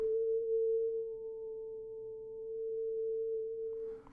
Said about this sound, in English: Now I'm going to put it through a low-pass filter which lets through the frequencies less than A441, but dampens all the overtones.